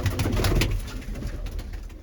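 Soft, low pigeon cooing repeats in a steady murmur near at hand, loudest at the start and trailing off, with faint chirps above.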